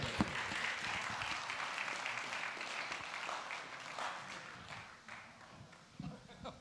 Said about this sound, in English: you guys can stop clapping with the best of them.